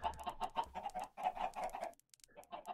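Chickens in the Minecraft video game cluck in quick, choppy bursts, fairly close and quiet, with a short pause before the clucking resumes.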